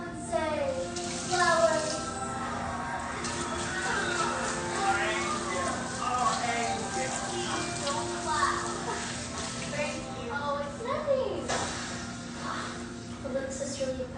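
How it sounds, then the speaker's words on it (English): A kitchen tap runs steadily while hands are washed beneath it, a continuous close rush of water with small splashing changes, and faint voices underneath. "let me just wash my hands real quick"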